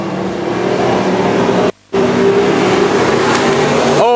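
Pro modified race cars roar around a short track during a heat race, a loud sustained engine drone with a brief dropout near the middle and a rising whine at the end.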